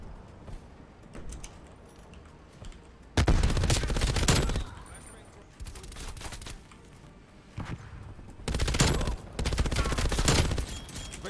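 MG82 machine gun in Black Ops Cold War firing in long, loud sustained bursts separated by pauses, close and heavy, with a player talking in between.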